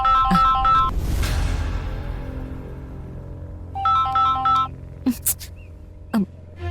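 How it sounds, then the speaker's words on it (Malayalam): A mobile phone rings for an incoming call with a bright melodic ringtone in two bursts, backed by dramatic TV-serial music and a few sharp stingers. "ഒരു കോള്, ഒരു മിനിറ്റ്."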